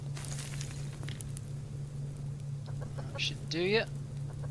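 Chickens clucking in the survival game Subsistence, a short rising cluck near the end over a steady low hum, with someone talking.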